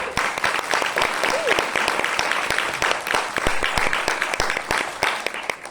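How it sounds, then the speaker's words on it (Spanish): An audience applauds a speaker named Eli Pérez at the start of a talk, a dense, steady round of clapping from a sizable crowd lasting several seconds. "Un aplauso a Eli"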